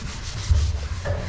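Sponge scrubbing dishes, a brief close rubbing swish with a couple of quick strokes, with no voice over it.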